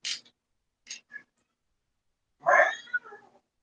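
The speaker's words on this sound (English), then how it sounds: "Says the kitty." A cat meows several times: two short high mews, a small chirp, then a longer, louder drawn-out meow, close and clear in a quiet room.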